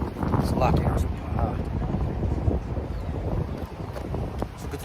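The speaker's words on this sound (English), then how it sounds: "It's a windy day today." Steady gusty wind roaring against the microphone outdoors at a camp, a continuous low rumble that swells and eases, with someone talking through much of it.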